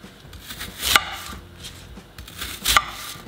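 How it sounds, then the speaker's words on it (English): A knife chops an apple into small chunks on a cutting board, with soft cutting strokes and two sharper board knocks, close and fairly quiet. "So I'm gonna start by cutting the apple into, I don't know, should we do slices? Maybe just small chunks."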